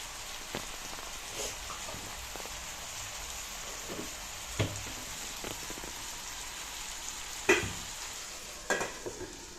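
Tomatoes with turmeric and salt simmering in a pan for tomato rice, a faint steady sizzle with soft bubbling and occasional louder pops and stirring clicks, no talk.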